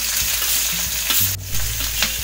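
Onions dropped into hot oil in a kadai for masala rice, a close, loud, continuous sizzle with a few stirring knocks and scrapes, and no one speaking.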